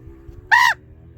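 A single short, harsh caw from a pet raven, close and loud, standing out against a quiet, low background hum.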